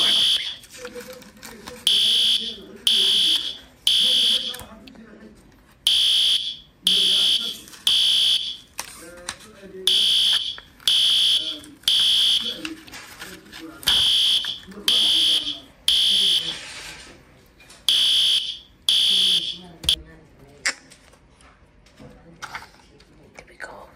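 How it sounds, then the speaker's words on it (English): A fire alarm under test sounds in a steady series of loud, regular piercing tone bursts, with people talking faintly underneath. "Let's open the fire alarm."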